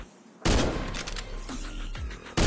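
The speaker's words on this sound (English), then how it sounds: "just gonna keep on shooting until I get a no scope" Gunfire in a futuristic aircraft battle video game, coming as a sudden loud burst of rapid shots that sounds like a dense fusillade, breaks into a couple of distinct blasts, then fades and starts again with a sharp new burst.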